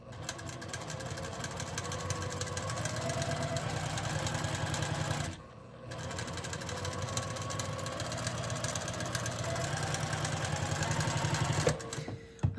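A sewing machine stitches a quilt-as-you-go star block for a 4th of July quilt, running steadily and loudly with a rapid mechanical hum, pausing briefly midway before resuming its continuous stitching.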